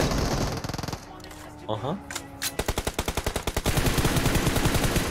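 Rapid automatic gunfire from a machine gun in a video game, a dense train of loud evenly spaced shots filling the second half after a brief quieter stretch, with a voice exclaiming over it.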